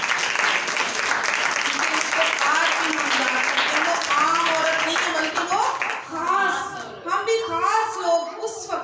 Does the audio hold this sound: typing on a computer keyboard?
no